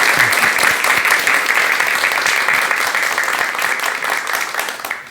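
An audience at a talk on marriage and couples' relationships applauds warmly to welcome a psychiatrist lecturer. The clapping is dense and steady and slowly thins over about five seconds.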